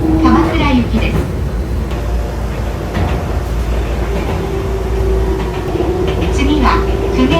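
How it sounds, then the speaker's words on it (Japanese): Inside a commuter train bound for Kamakura via Enoshima and Hase, a steady low rumble of the carriage rolling along with faint squeals, under a recorded onboard announcement. "この電車は江ノ島、長谷方面、鎌倉行きです。"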